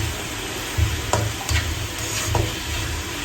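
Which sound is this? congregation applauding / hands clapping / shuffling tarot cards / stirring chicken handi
stirring chicken handi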